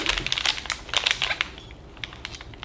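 MRE flameless ration heater bag being folded shut around a spaghetti with beef and sauce pouch, a quick run of close crinkling plastic bursts that thins into lighter rustles.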